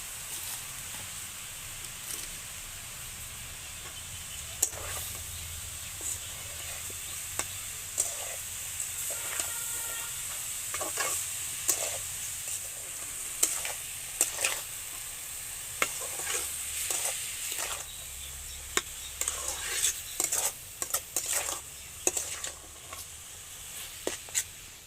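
Grated carrots for carrot halwa frying in a pan, giving a steady soft sizzle broken by frequent sharp scraping and clinking stir strokes, close by and with no talking.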